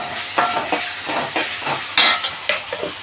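Ginger garlic paste fries in hot oil for a soybean potato curry, a steady sizzle broken by repeated scraping stirs of a spoon in the pan, close and fairly loud, with no voices.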